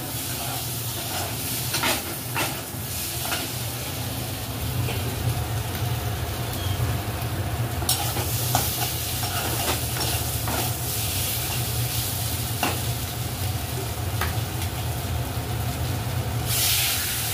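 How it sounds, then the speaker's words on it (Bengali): Spice masala fries in a pan while being stirred continuously, a dense steady hiss-like sizzle with scattered scraping clicks from the spoon, close and even throughout, without speech. "মশলাটা কিন্তু এবার খুব ভালো করে কষাতে হবে"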